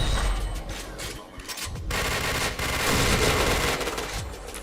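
Gunfire in a multiplayer shooting video game, rapid automatic bursts and single shots crackling loudly and close, with brief pauses between volleys.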